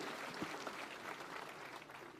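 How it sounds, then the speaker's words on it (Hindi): Applause from an audience at a civic felicitation ceremony in Lucknow for President Ram Nath Kovind, a steady, fairly faint wash of clapping lasting the whole stretch. "आप सब जोरदार तालियों के माध्यम से अपने हृदय की भावनाएं मंच तक पहुंचा सकते हैं"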